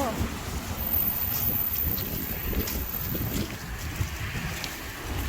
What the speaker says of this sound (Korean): 바람이 너무 많이 부네.